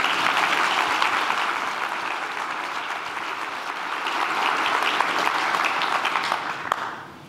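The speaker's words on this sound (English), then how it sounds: "Let's give these folks a hand of applause." Sustained audience applause at a land development gathering, a dense, steady clatter of many hands that holds strong for several seconds, dips slightly, then swells again before tapering off near the end.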